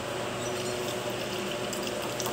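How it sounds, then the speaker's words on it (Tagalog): A little water poured into a cooking pot of coconut-milk milkfish stew with shrimp paste, a steady continuous splashing trickle running without a break, close and fairly soft. "Maglagyan lang po tayo ng kunting tubig."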